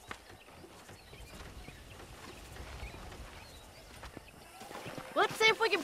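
A horse in Red Dead Redemption neighs and its hooves clop amid outdoor game ambience with birds, a loud whinny rising near the end while voices talk over the scene.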